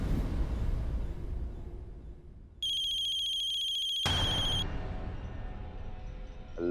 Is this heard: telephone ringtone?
yes